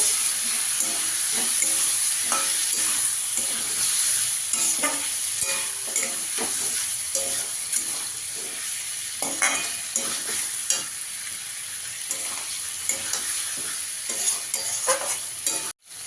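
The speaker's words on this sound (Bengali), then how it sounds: "আমি একটু কারি পাতা দিয়ে দেবো।" Curry leaves fry in a pan with chilli powder, a loud, steady close sizzle running throughout while a utensil scrapes and stirs in irregular strokes, with no talking.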